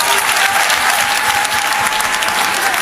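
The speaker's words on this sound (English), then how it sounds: "Clap it up, clap it up." An audience at a relationship and marriage advice talk bursts into dense, sustained applause, loud and even throughout with no voices standing out.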